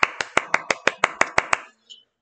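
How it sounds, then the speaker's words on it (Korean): Nine sharp, evenly spaced hand claps in a quick steady rhythm, close and crisp, ending abruptly, offered as congratulations in a small classroom lesson. "박수, 박수"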